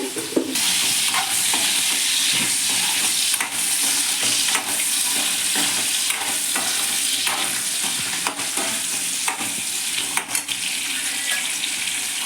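Dried fish sautés in a pan with a steady, loud sizzle throughout, while stirring strokes scrape and clatter at irregular intervals close up.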